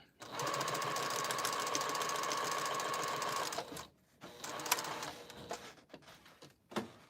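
A sewing machine stitches quilt pieces chain-style, running steadily for about three and a half seconds before stopping, followed by brief handling noises and a short burst near the end.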